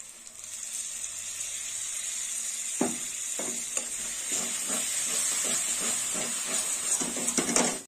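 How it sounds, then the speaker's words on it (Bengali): Spice paste with coriander powder and tomato paste fries in a pan for a fish curry, sizzling steadily and close, with a run of rhythmic stirring scrapes and taps starting partway through. "মশলাটা ভালো করে কষাবো। দিয়ে দেবো টমেটো বাটা, অর্ধেকটা দেবো।"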